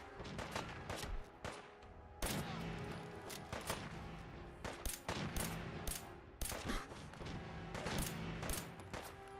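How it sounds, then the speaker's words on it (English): Gunners in the Wasteland Warrior game open fire in repeated rapid bursts, loud sharp cracks and rattling volleys spread across the whole stretch over a steady background hum. "So the gunners are now attacking people."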